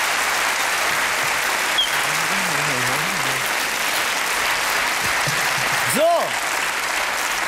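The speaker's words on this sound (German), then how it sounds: "Kleiner Applaus, meine Damen und Herren" Studio audience applause on a German TV late-night show during a cooking segment, a dense steady roar of clapping throughout, with a voice speaking briefly over it.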